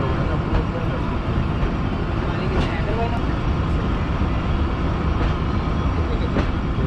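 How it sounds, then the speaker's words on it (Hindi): Fareed Express train slowly pulling out, heard from on board as a steady low rumble with faint rail clicks, continuous and close. "काफ़ी स्लो निकल रही है ट्रेन।"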